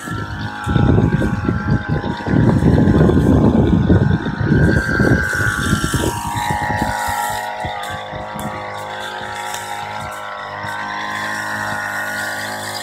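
Small motorized backpack sprayer with a 25-litre tank spraying sulfur in a hazelnut orchard, a loud, steady engine drone and hiss running throughout, strongest and roughest in the first half, then settling into a smoother hum.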